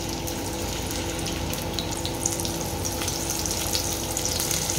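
Chopped onion frying in two tablespoons of oil for a Marathi chicken rassa: a continuous close sizzle and crackle, fairly soft and steady, with no talking.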